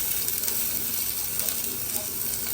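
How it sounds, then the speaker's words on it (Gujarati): Onions sizzle in hot oil in a pan, making a dense, steady, close hiss with small crackles, with no pauses. "સીધું જ આપણે ડુંગળી નાખી દેવાની છે"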